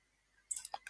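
A computer mouse clicks a few times in quick succession, faint and close, with short sharp ticks.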